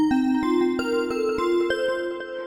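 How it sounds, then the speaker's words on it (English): Bell-like polygonal wavetable tones from a Korg Modwave synthesizer, a sequence of bright, harmonically rich struck notes with ringing sustain, played alone and close. "They kind of sound like this, these polygonal waveforms."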